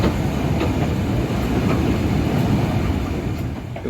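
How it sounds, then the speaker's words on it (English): A non-stop steam train on the Tanfield Railway passes straight through Causey Arch station, its loud, steady rumble and rolling wheel noise filling the air up close. "This was a non-stop train passing straight through Causeyarch station."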